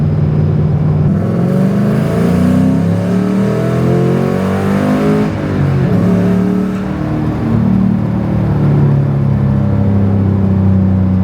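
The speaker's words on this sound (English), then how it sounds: "I can hear the intake noise for sure" A car with a 3V engine and a newly installed intake drones steadily while driving, its pitch rising and falling through gears with a throaty intake whoosh, loud and close, no talking.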